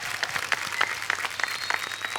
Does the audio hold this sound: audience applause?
yes